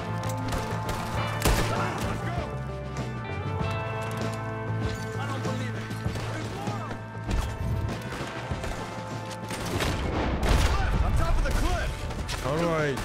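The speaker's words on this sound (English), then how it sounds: "Shooting." Gunfire in the video game Red Dead Redemption 2, repeated shots and crashing impacts over a dense, loud game soundtrack, with a person talking over it.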